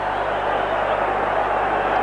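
A packed stadium crowd roars in a steady, dense wash of cheering at the 1988 rugby league World Cup final, loud and sustained throughout with no breaks.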